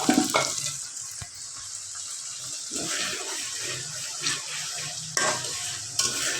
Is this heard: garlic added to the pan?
yes